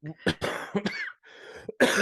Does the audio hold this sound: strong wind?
no